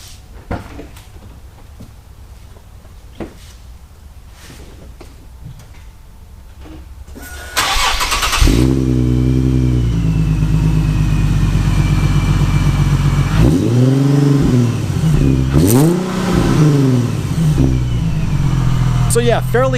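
A car engine cranks and catches after some clunks and door-like knocks, then settles into a steady idle broken by a couple of rising and falling revs, loud and close.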